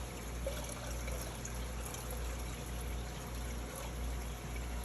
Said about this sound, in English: We're going to go ahead and pour a little bit more in there